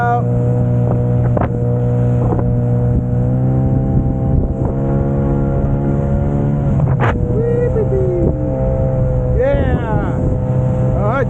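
The outboard motor of a Saturn SD330 inflatable boat drones loud and close, a steady humming engine tone that rises and falls as the boat manoeuvres, with some wind buffeting and someone briefly speaking over it.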